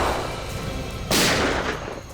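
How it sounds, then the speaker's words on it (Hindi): Gunfire in a tense crime-drama scene where a team on a road suspects a trap, with a loud sharp burst about halfway through over a dense, noisy background, no voices heard. "फायरिंग हो रही है"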